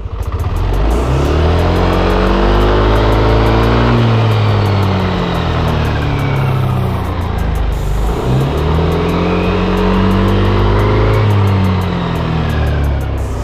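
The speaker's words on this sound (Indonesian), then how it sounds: "Kalau di mesinnya nanti akan bunyi tik kayak gini men." Yamaha NMAX Neo scooter engine running and revving steadily, with pitch rising and falling in two smooth sweeps and faint rapid ticking from the VVA mechanism, loud and close with no talking.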